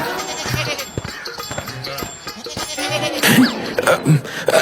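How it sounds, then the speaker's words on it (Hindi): A goat held in a village woman's arms in a midday Hindi story bleats in several short, close cries over busy background sound. "इतनी धूप में इस बकरी को गोद में उठाए कहाँ चली जा रही हो?"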